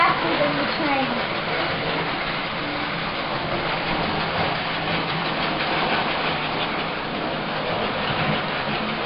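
A train runs along the tracks with a steady engine drone and rolling rumble, sustained and fairly loud, with faint voices mixed in beneath.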